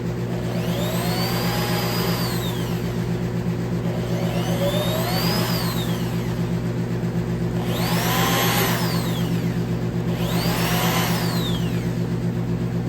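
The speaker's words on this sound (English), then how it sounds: "Now I'll run it forwards." Steady whirring of a power drill running forwards, boring into material on a 2009 Police Special, close and loud, with recurring swells of grinding noise every couple of seconds.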